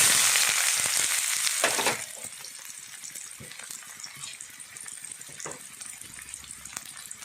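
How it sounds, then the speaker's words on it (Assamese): A loud burst of sizzling as onions hit hot oil in a pan, then settling into a steady, crackling fry for several seconds. "অকণমানকৈ তেল দি দিছোঁ। এতিয়া মই ইয়াত দিম পিঁয়াজ"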